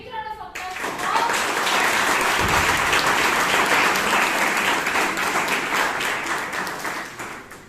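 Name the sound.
audience applause at Toastmasters meeting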